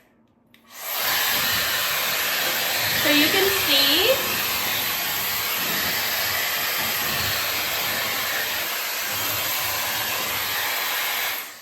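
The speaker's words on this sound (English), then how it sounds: "you can turn it directly into a hair dryer" A Shark FlexStyle hair dryer blows with a loud, steady whooshing roar that starts abruptly and runs continuously, with a brief spoken phrase early over the noise.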